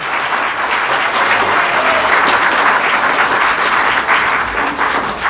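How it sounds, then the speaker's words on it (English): Audience applause for Catherine Watt and the writer at a talk-show taping, a dense, steady wash of many hands clapping at full loudness throughout, with cheering voices mixed in. "A round of applause for Catherine Watt and the writer"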